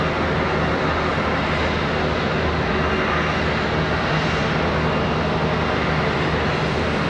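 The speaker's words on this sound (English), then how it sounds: "A321s coming around the corner." Airbus A321 jets taxiing at Charlotte Douglas airport give a steady, broadband engine roar with a low rumble, constant and fairly loud throughout with no voices.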